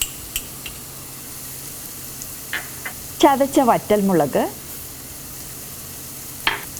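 Onions with turmeric and chili powder fry in a pan for a jackfruit seed stir fry, giving a low, continuous sizzle under a speaking voice, with a few light clinks.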